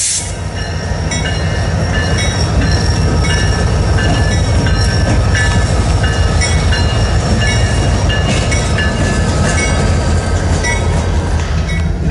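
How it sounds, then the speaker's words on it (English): A heavy coal train rumbles past up close, steady and loud, with rhythmic clacking of wheels over rail joints and occasional metallic squeals throughout. "Here's local power passing a coal train."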